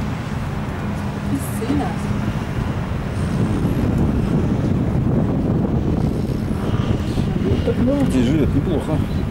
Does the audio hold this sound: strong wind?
yes